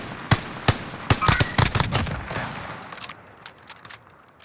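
Rapid bursts of gunfire in the video game Call of Duty: Modern Warfare, a quick cluster of sharp shots early on, then thinning to a few fainter, scattered reports.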